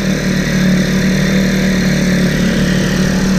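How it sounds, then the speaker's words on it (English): A 4hp Eska outboard motor runs steadily at idle, a close, loud, even engine drone with no break or change in pitch throughout. "it's a good running motor"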